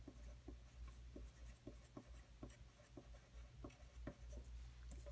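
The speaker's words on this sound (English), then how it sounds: "I am going to write the word color wheel" A marker writes on paper in a quiet room, its tip giving a steady run of short scratchy strokes and taps that repeat at an uneven pace across the whole stretch, close by with no talk.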